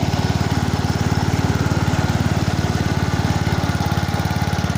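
A 1988 Simplicity 7116H lawn tractor engine running steadily, a loud, close, rapid chugging drone with even pulsing, alone without talk.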